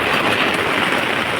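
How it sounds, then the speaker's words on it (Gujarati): Heavy rain comes down in a village, a continuous loud wash of hissing noise with no break and no talking. "વરસાદ પડે છે"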